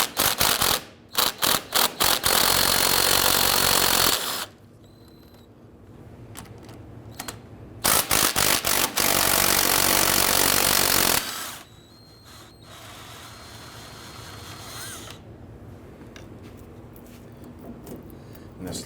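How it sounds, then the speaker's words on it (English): Ratcheting of a 16mm socket wrench loosening front lower control arm bolts on a 2007-2014 Cadillac Escalade, with loud bursts of rapid clicking separated by quieter gaps of handling and tool noise. "We're going to use our 16mm socket to go ahead and loosen these bolts."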